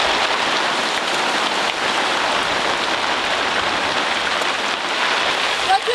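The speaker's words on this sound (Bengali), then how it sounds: "প্রচুর জোরে বৃষ্টি এসে গেছে" Heavy rain pours down steadily at an outdoor picnic cooking spot, a dense unbroken hiss of drops striking surfaces, loud and close throughout with no break.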